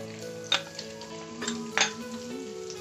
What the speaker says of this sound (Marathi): अशा प्रकारे हे व्यवस्थित तेलामध्ये फ्राय होऊ द्यायचं आहे